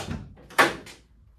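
A single short knock-like thud of a door opening, close and fairly sharp, followed by quiet.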